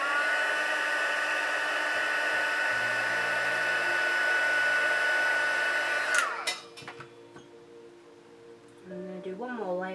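A hair dryer heat-sets a freshly brushed craft layer with a steady, loud whirring hum for about six seconds, then clicks off and winds down, and a voice speaks afterward.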